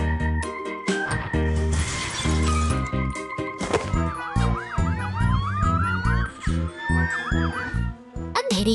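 A police car siren wails loudly over a busy musical backdrop in an animated rescue story, its rising and falling tone sweeping repeatedly near the middle.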